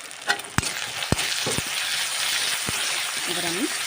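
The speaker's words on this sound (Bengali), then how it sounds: "এবার আমি ভেজে নেব এই মশলাগুলোকে," Ginger and garlic paste sizzles and fries in a pan with onions for Bengali canteen-style ghugni, a continuous close hiss broken by a few sharp stirring clicks and taps.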